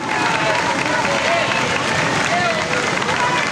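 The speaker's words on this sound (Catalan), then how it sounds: "Un aplaudiment per als més menuts de l'escolata infantil del Gorillol!" A crowd at an outdoor ecological mascletà festival applauds toddlers from an infant school, producing a dense, loud, continuous wash of clapping and crowd noise with voices mixed in.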